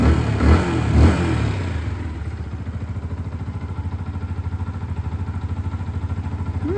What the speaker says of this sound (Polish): jest fabryczny układ wydechowy, no to jest taka grzeczna, cicha i spokojna